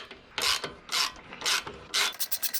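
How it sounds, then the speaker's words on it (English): Ratchet wrench, 19mm, tightening a rear shock bolt and nut on a Harley-Davidson Sportster Iron 883 fitted with Progressive Suspension 412 shocks: four bursts of clicking ratchet strokes, then quicker short clicks, close and alone. "19mm wrench, and tighten her in."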